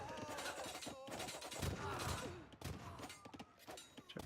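Hand cannons fire in the Age of Empires video game during a showmatch, a scattered volley of crackling shots and impacts mixed with battle clatter, with a commentator talking over it.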